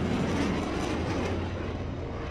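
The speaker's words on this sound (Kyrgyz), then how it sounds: "Ушул учурда булардын үстүнөн реактив самолет учуп өттү." A jet airplane passes overhead as a steady, fairly faint broadband roar that holds evenly throughout, with no voices.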